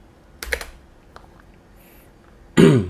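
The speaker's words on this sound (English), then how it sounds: "we'll type this" Brief bursts of computer keyboard typing, a quick cluster of key clicks followed by a louder, denser flurry of keystrokes at the end, close and dry in a quiet room.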